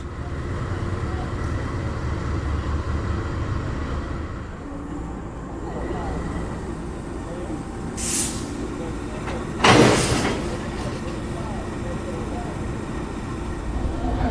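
A train carrying a passenger wagon behind its locomotive rumbles and rattles steadily in Southern Africa, with a couple of brief sharp bursts of noise partway through and faint voices underneath.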